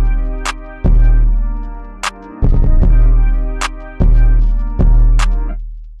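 Programmed hi-hat pattern from the Thenatan Hatz VST plugin with random velocity, the ticking hats varying in loudness over a loud, punchy electronic beat with deep kicks and sustained tones.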